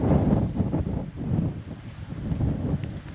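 Strong wind buffets the microphone on the Wales coastal path near Aberdaron, a steady low roar with gusty surges throughout and no talk.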